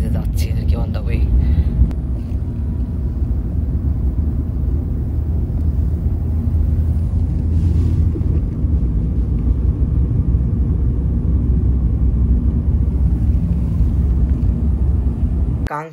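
Riding in a taxi in Voronezh, Russia: a steady, loud engine and road rumble fills the whole stretch, with wind buffeting, and a person talks over it.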